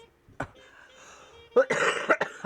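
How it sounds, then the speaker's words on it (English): A short cough near the start, then a louder cluster of harsh coughs toward the end, close and abrupt, with faint background hum between them. "got a cough."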